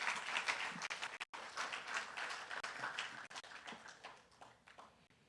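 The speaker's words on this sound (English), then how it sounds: "Let's give Joshua another round of applause." Audience applause for speaker Joshua at a youth business forum, a dense crowd of hands clapping, fairly distant and quiet, tapering off toward the end.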